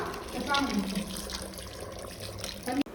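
Green masala water poured into chicken curry in a pan, a steady splashing pour with a bubbling liquid wash, heard up close under a voice speaking over it.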